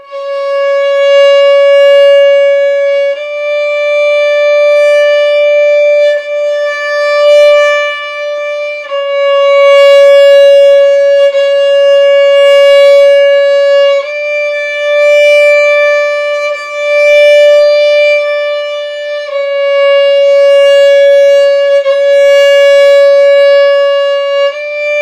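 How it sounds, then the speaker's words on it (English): Beginner violin lesson from the Crickboom method: long sustained bowed notes, each held several seconds with small changes of pitch between them, steady and fairly loud with no talking. "That's really beginning to sound like good violin playing there."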